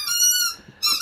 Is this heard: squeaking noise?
yes